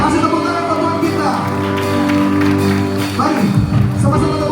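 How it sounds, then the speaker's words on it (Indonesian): A church congregation claps together during a worship gathering, sustained applause under a loud voice and music-like tones, with some shouting mixed in. "Mari sama-sama tepuk tangan buat Tuhan Yesus"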